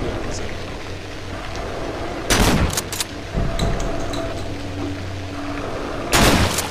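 Two loud shotgun blasts in the Cry of Fear horror game, spaced a few seconds apart over a low droning backdrop, each a sharp close burst with a brief tail.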